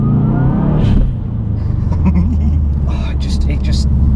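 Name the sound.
Subaru engine revving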